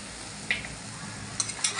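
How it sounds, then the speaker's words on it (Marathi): Dried shrimp and kokum being sautéed in a pan: steady soft sizzling with a few short metallic scrapes of stirring, close and continuous. "व्यवस्थित परतून घेऊया।"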